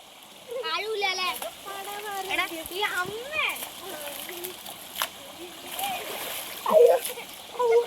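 Water splashing and sloshing in short bursts as children swim in a stream and talk and call out nearby, with a few louder splashes toward the end.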